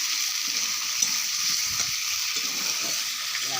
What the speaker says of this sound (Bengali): ভালো করে ফেরো ফেরো করে আলুগুলো ভাজবো।